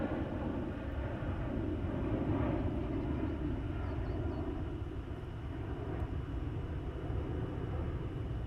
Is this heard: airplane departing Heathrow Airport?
yes